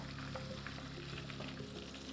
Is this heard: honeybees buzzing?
no